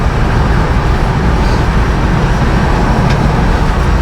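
A 1971 Plymouth Barracuda with a fuel-injected 440 engine on the move, a loud, steady, broadband engine roar and road rumble filling the whole stretch without letup.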